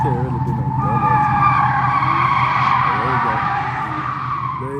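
A Ford Mustang slides through an empty warehouse, its tires squealing in long wavering screeches over engine roar, echoing loudly as voices chatter alongside.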